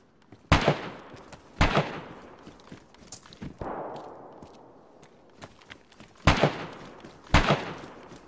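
Gunfire in a multiplayer survival shooter video game: several loud, sharp single shots spaced a second or more apart, each ringing out with a short echoing tail, with faint movement sounds in between.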